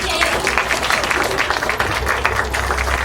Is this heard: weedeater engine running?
no